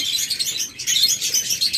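A pair of lovebirds from a local breed gives rapid, high, overlapping chirps and tweets, close and continuous throughout the short stretch.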